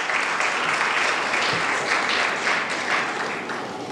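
An audience at a talk breaks into loud, sustained applause, dense clapping from a whole room that stays close and even before easing slightly at the end.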